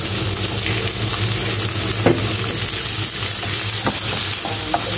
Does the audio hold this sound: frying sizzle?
yes